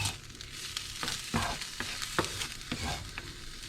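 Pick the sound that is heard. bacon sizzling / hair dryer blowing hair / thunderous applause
bacon sizzling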